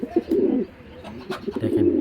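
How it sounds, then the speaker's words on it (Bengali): Racing pigeons coo in a loose series of low, throaty calls, fairly close and alone with no talk over them. "বেশ মোটা সোটা কবুতর মাশাআল্লাহ"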